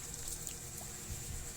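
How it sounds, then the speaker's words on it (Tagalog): Tap water runs in a soft, steady stream as hands are washed after mixing pandesal dough by hand, a faint continuous hiss with no voices. "maghugas lang tayo ng kamay"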